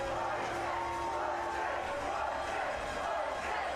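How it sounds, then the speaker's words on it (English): A crowd cheering for rowing crews at a regatta, a steady distant roar of many voices with scattered shouts that holds at an even level throughout. "You can hear the crowd cheering for their crews."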